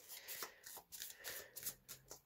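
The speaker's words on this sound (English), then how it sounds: "I don't know which one of these I've shuffled and which one I haven't now." A deck of tarot cards is shuffled by hand in quick, close, soft riffling bursts that repeat several times with brief pauses between them.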